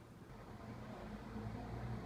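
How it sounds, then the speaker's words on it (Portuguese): A bus passes by on the street outside as a low, rumbling engine drone that swells gradually and stays steady, fairly faint and muffled, with no talking over it. "Lá vem o ônibus, vamos esperar o ônibus passar."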